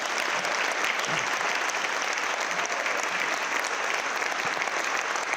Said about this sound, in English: how about one more big round of applause for these amazing students that we have here today